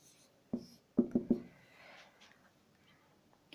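Chalk or marker taps and strokes on a classroom board during a physics lesson, a short burst of three or four quick knocks followed by a faint scratchy stroke, close and otherwise quiet.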